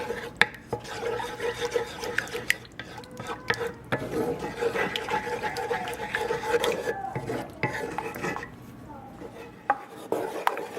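A spoon scrapes and stirs white gravy steadily around a pan as it thickens, with soft repeated scraping and occasional light clinks of metal throughout.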